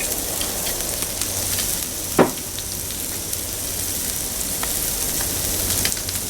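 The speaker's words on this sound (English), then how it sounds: "Drop our mushrooms on. Drop a little bit more oil on top of those so they cook up nicely." Mushrooms sizzling in oil on a discada, a steady loud hiss of frying throughout, with one brief clank of a utensil on the metal disc near the middle and no talk.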